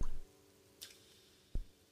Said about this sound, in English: We have a literal drop of water falling down.